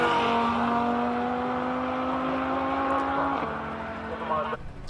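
An Audi race car on a hill climb run holds a loud, steady engine note close by. The pitch drops near the end as it shifts or backs off, and a commentator talks over it.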